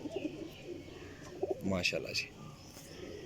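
A fancy Teddy pigeon coos in a pigeon loft, giving a few soft, low throaty coos near the middle, close by, with someone speaking briefly over it.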